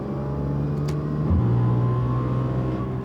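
A car engine with a raspy exhaust drones steadily under load, its pitch shifting midway as the revs change, loud and close in the cabin with no talk.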